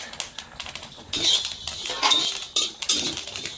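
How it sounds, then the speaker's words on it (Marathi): Rice grains pop into puffed rice on a hot griddle. The sound is a close, irregular run of sharp crackling bursts and light ticks, with no talking. "आता गरम तव्यामध्ये भात टाकलेला आहे आणि भाताच्या आता लाह्या होताना आपण बघणार आहोत"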